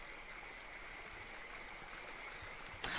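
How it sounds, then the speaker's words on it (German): Gentle water splashes and trickles beside a lily pond with a sandy shore in the video game Eastshade, a soft steady flow with a brief louder burst at the very end. "Dieses Wasserplätschern, das ist so entspannt."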